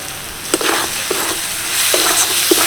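Semolina pasta sauce seasoned with black pepper and sugar is stirred in a pan, a steady sizzle with several distinct scraping strokes of the spoon, close and fairly loud.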